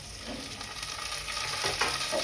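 Tomatoes hitting hot frying masala for chicken masala, a steady close sizzle and crackle with light stirring scrapes, no talking.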